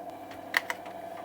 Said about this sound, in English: the caps lock key works